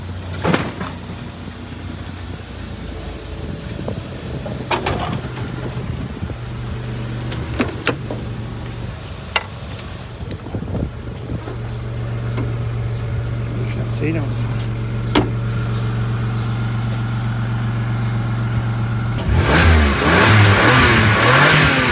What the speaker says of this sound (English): Good engine, no smoke, no rattles.